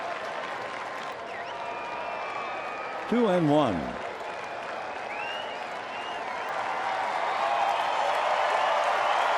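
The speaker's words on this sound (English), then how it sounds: "The crowd is cheering" A baseball stadium crowd applauds and cheers as a broad, distant wash that swells toward the end, with a commentator's voice talking over it.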